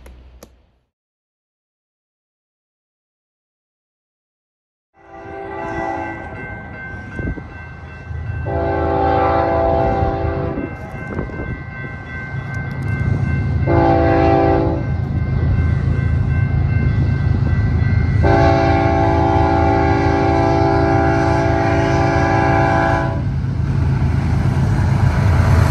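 After a few seconds of silence, a BNSF SD70ACe diesel locomotive rumbles past at a crossing, loud and close, its horn sounding four times in long and short blasts over the engine roar.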